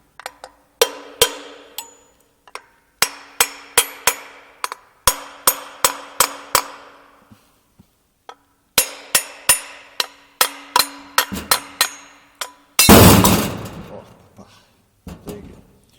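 A hammer taps on a turbocharger turbine to loosen it, giving sharp metallic knocks in quick clustered runs with short pauses, then a brief harsh noisy burst near the end.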